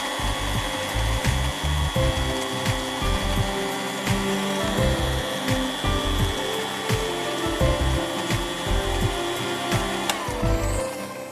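An electric kitchen grinder grinds ginger and garlic with a steady, close motor whine, broken by rhythmic thumping pulses as the blades churn the paste.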